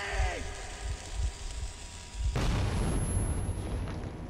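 A grenade goes off in the game Metro 2033, a sudden burst about halfway through that turns into a broad, sustained crackling roar, after a stretch of lower rumbling sounds.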